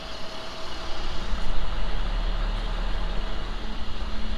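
Truck with a low engine rumble and steady broadband noise, reversing into position to load a 1978 Cadillac Coupe DeVille, holding fairly loud and continuous throughout.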